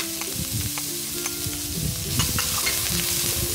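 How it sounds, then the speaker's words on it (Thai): Rice stir-fried in a pan with egg and chopped onion, a spatula scraping and tossing the ingredients over a steady close sizzle, with repeated knocks and stirring strokes throughout. "จะมาผัดข้าวกันเลยนะคะ"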